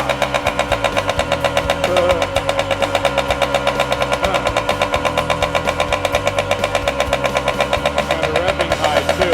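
1979 Kawasaki KM100 motorcycle engine running steadily during repair, a fast, even two-stroke putter with a regular pulsing rhythm, close and loud throughout.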